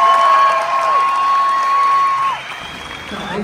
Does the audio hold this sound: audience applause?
yes